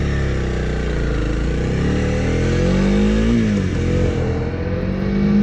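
A Honda CRF300L motorcycle with stock exhaust revs up and down close by, a loud buzzing roar with rising and falling pitch, no voices.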